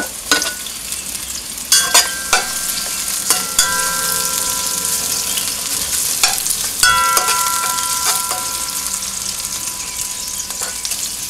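Onions fry in a pan with a loud continuous sizzle, punctuated by repeated scrapes and metallic clinks of a utensil stirring against the pan.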